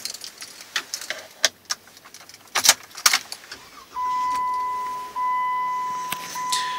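Keys jangle and clatter inside a 2015 Jeep Wrangler Sahara Unlimited, then the ignition chimes and a steady tone sounds as the vehicle comes to life. The second half is steadier and louder, with no speech.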